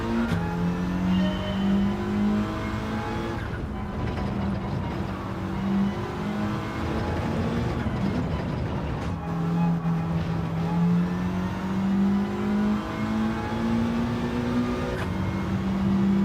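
A race car engine in Gran Turismo 7 holds a steady high rev through the gears, with shifts and dips in pitch over a long stretch, loud and continuous with no talking.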